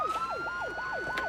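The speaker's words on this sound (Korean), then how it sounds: "사이렌 꺼요, 사이렌." A fire engine siren on an emergency call in a Korean drama cycles through rapid rising and falling yelps, about four sweeps in quick succession, loud and close over a steady tonal hum.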